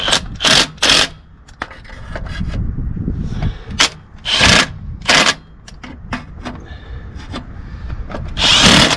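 Power drill tightening bolts on the transmission of a 2005 Ford F150 XLT 4.6L 4x4 during a shift solenoid replacement, loud close whirring bursts in short spurts with clicks and rattling handling noise between them.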